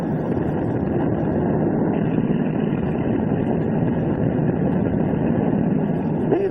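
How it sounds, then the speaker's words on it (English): Landing craft engines drone steadily as boats come ashore in waves, a dense continuous rumble with wind-like noise and no distinct breaks, fairly loud and unchanging. "Landing craft come in, wave on wave."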